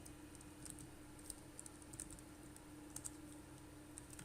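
Typing on a computer keyboard: a steady run of quiet, close key clicks at an irregular pace, faint against a low background hum, with no voices.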